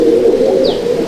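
A loud, steady hum of cooing rises from pigeons packed in a loft, broken by one short higher chirp midway.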